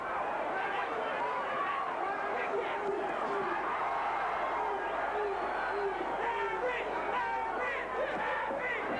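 A boxing crowd at Larry Holmes versus James Bonecrusher Smith roars and shouts steadily after a right hand from Bonecrusher, a dense, sustained wall of cheering voices.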